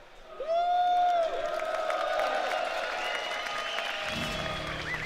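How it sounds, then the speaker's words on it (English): A live esports crowd at the Red Bull Wololo Age of Empires finals answers an announcer, sending up a sustained burst of cheering, whoops and applause that stays steady for several seconds, with no talking heard within the noise. "Who is cheering for the Viper?"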